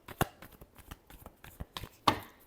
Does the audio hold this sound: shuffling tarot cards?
yes